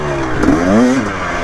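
A Yamaha YZ250, KTM 250 XC or Beta 480RR dirt bike engine revs up briefly at a hill climb, its pitch rising and wavering before settling, loud and close.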